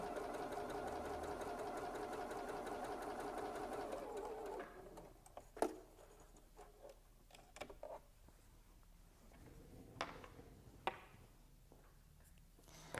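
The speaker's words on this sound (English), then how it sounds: "This little machine that I'm sewing on is the Pfaff Passport" A Pfaff Passport portable sewing machine stitching a quilt, running in a steady buzzing whir for several seconds, then stopping and leaving scattered clicks and light handling noises.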